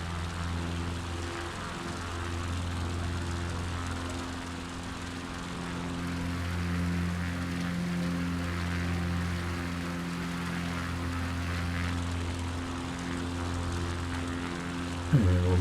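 Propeller airplane engine droning steadily as the aircraft climbs out after takeoff in Microsoft Flight Simulator 2024 over Brunswick County, a continuous loud hum with a sudden thump near the end.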